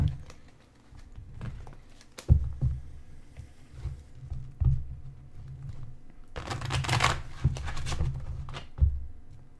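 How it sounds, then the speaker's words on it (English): A deck of cards is shuffled by hand during a live meditation and psychic Q&A broadcast: soft scattered taps and rustles, then a louder riffling burst near the end, with no talk. "I just want to give this another shuffle here"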